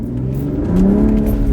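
A car engine revs up close and loud, a droning tone that rises in pitch partway through and then holds high.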